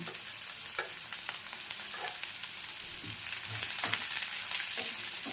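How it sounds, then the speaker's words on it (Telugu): Onions and green chillies fry in a pan for a goat brain fry dish, giving a continuous close crackling sizzle with scattered pops and a few stirring scrapes; no talking. "ఇప్పుడు ఉల్లిపాయలు వేసుకుంటున్నాను ఉల్లిపాయలు వేసుకుంటున్నాను అలాగే పచ్చిమిర్చి కూడా వేసుకుంటున్నాను"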